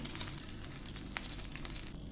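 Quiet, steady sizzle of pearl spot fish frying in oil, a faint continuous crackle with a few small pops, heard alone without speech.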